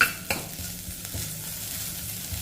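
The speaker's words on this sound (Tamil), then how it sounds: "இதை வந்து கொஞ்சம் லைட்டாக வதக்கிக்கிடுவோம்" Food sizzles steadily in a hot pan while a utensil stirs and scrapes, with a few sharp clicks against the pan.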